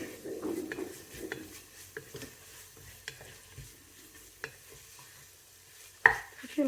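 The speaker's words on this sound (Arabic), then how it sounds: "نقليو هاد العناصر مزيان" Ingredients, including mushrooms seasoned with soy sauce, are stirred and sautéed in a pan for a Chinese soup, giving soft scraping and stirring with a light sizzle and occasional sharp utensil clicks against the pan, alone and close.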